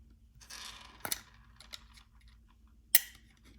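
Sharp snips of cutters clipping a part while a small robot is taken apart, a few quiet isolated clicks spread apart with one louder crisp cut near the end.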